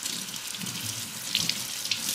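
Warm water runs steadily from a tap onto a fabric face mask held under the stream in a sink, a continuous close splashing hiss with a few brighter spatters near the end.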